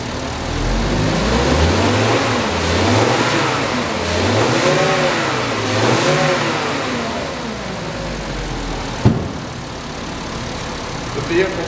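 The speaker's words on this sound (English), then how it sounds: "We're just going to rev the vehicle a little bit just so you can hear exactly how it sounds." A 2013 Volkswagen Passat with 38,000 miles revs repeatedly from idle, its engine rising and falling in several close swells with a sharp clack near the end.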